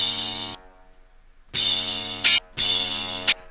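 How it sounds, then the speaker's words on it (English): Rap beat sample layered with a trombone line in FL Studio: two sustained, loud brassy chord phrases, each ending in a short accent, separated by a quiet gap, with no talking. "Let's listen to the sample and the trombone only"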